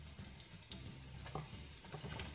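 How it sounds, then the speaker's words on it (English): Garlic frying in hot oil: a steady, close sizzling hiss with a few soft stirring clicks, heard alone for a couple of seconds. "Let it fry in the oil for a while. So now I'm adding my garlic."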